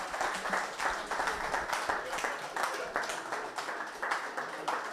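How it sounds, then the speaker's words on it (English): Steady crowd applause at the launch event for Magnolia Residences, a KI Homes property development, many hands clapping continuously and fairly loud throughout, with a faint voice underneath. "Let's give him another round of applause."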